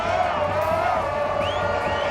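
Crowd celebrating in the streets of Jerusalem, a dense wash of cheering voices and whoops, loud and continuous, with a whistle-like rising call near the end.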